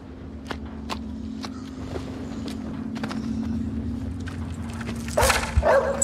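A dog in a Peaky Blinders episode gives several sharp, separate barks spaced through the first half over a low steady hum, then a louder scuffling burst near the end.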